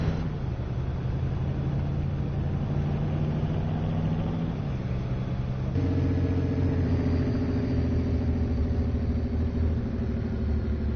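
A truck engine in a video game hums steadily and close, its pitch dropping and then jumping as gears shift partway through, with no talk over it.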